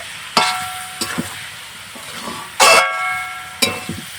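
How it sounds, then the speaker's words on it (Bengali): A spoon scrapes and clinks in a metal pan while winter vegetables and lentils are stirred with a spoonful of sugar for basmati rice khichuri. Several separate, sharp strokes come at irregular intervals, close by, with a soft sizzle between them. "চিনিটা দিয়ে একটু নাড়াচাড়া করে নেব"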